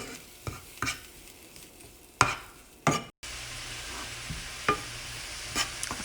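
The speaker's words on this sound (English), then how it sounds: "And now I will go ahead and mix this." Seasoned food with oregano and salt being mixed in a pan: a few sharp scraping and knocking strokes of a utensil, then a soft ongoing sizzle with occasional light clicks, fairly quiet.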